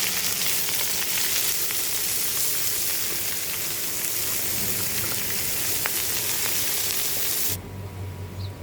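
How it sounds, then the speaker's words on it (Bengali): Chopped onion and chili frying lightly in a pan for village-style home cooking, a loud, dense, steady sizzle close by that drops away abruptly near the end. "হালকা একটু ভেজে নেব। আমি দিয়ে দিচ্ছি পেঁয়াজ কুচি আর মরিচ"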